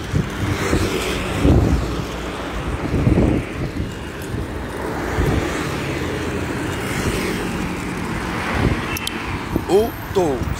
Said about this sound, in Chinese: 这边风很大，超大的。